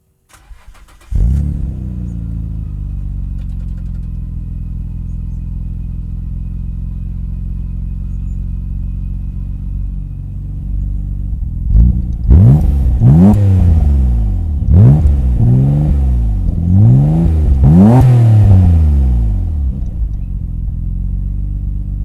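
A Nissan R32 Skyline GT-R exhaust with an HKS Super Turbo muffler idles steadily and loudly, then is revved in several sharp rising and falling bursts near the end, with no talk.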